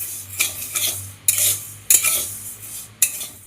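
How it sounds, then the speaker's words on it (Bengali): Rice is dry-roasted in a pan on a low flame for homemade baby cereal, with a spoon scraping and stirring in steady strokes and several sharp clinks against the metal. "পোলাইটলি খুব লো ফ্লেমে সুন্দর করে ভাজতে হবে যেন সিদ্ধ হতে সুবিধা হয়"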